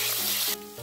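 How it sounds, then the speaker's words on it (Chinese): Water poured onto yellow croaker fish in a hot pan sets off a loud, bursting hiss that cuts off abruptly partway through, then a softer bubbling sizzle, all within a second and with no voices. "黄鱼，加水焖，"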